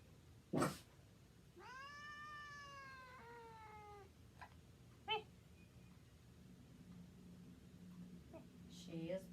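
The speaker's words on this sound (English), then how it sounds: "Here comes the big cat noises." A cat gives a long, drawn-out caterwauling meow with a wavering, rising and falling pitch, followed by a couple of shorter meows, all fairly close and clear over a quiet background, with a sharp knock near the start.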